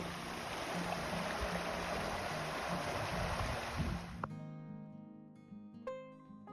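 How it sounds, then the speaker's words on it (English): Rushing water of the Yellowstone River flows steadily as a broad, loud wash for about four seconds, then drops away abruptly, leaving quieter tonal sounds with a couple of sharp knocks. "And you can hear the rushing water next to me."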